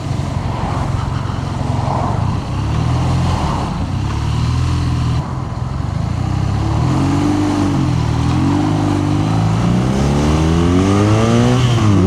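A BMW R nineT motorcycle fitted with an Akrapovic exhaust and Jekill & Hyde system drones steadily up close, then its engine note climbs sharply as it accelerates hard toward the end.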